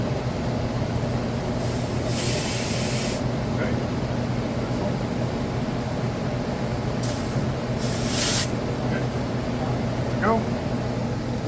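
Refrigerant hisses as an AC unit's lines are purged through opened valves, a continuous broadband rush with a few louder bursts of spray, heard alongside steady machinery hum.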